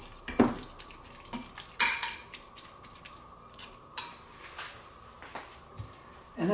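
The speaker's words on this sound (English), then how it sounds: "we just take a fork and we mush it up" A fork mashes and scrapes through curried shrimp salad with mayonnaise in a bowl, giving irregular clinks and scraping knocks of metal on dish at close range.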